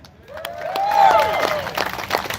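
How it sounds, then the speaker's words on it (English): Applause from an audience at a live event, a burst of clapping that swells and then tapers over a couple of seconds, with a loud voice speaking over it. "Give me another clap, ladies and gentlemen."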